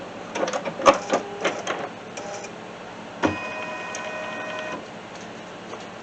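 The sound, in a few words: embroidery machine stitching elastic on a cup cozy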